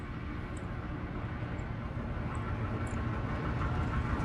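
Deep mechanical rumble resembling a passing train inside the horror game Amnesia: A Machine for Pigs, a low continuous roar that builds slightly, with faint scattered high ticks over it.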